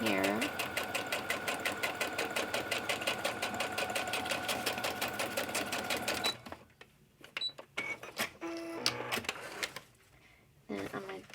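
A sewing machine stitches lines across a journal page, a fast steady mechanical rattle for several seconds, then stops and gives way to scattered handling clicks and paper rustles.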